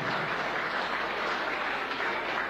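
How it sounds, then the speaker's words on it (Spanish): Audience applause at a tribute concert for Argentine popular music in Mar del Plata, a dense, steady burst of clapping from a crowd filling the whole moment without voices. "Un aplauso para ella."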